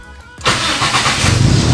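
A car fitted with an aftermarket keyless push-button start fires up after a short crank, going from near quiet to a loud, close engine roar that settles into a steady idle with no talking.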